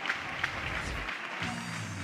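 Steady crowd applause at a college softball game, Oklahoma versus Tarleton State, after a run scores, a broad even wash of clapping with no gaps, joined near the end by a low murmur or announcer tone.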